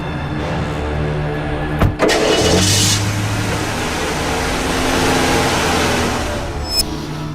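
A car engine starts in a dramatised crime scene. A sharp click and a short cranking burst are followed by a steady, close engine rumble that idles on with no one speaking.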